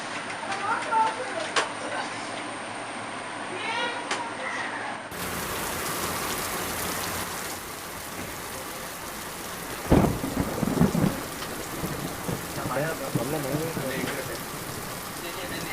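Heavy rain pours steadily with rumbling thunder, louder crashes near the middle; faint voices murmur briefly early on.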